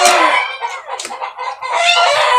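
Chickens and a rooster cluck and crow close by in a loud, busy burst of overlapping calls with no talking.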